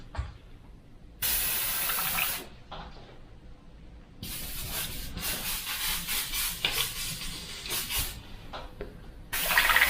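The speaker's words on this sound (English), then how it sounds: "And you've got the joys of flushing the brush out and getting it out." A brush used with FW inks and pearlescents is flushed and rinsed in water, with bursts of hissing, splashing water that come and go over about ten seconds.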